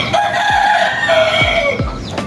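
A rooster crows loudly and close by in one long, strained call that fades out near the end. Several low thuds sit under it, and no one speaks.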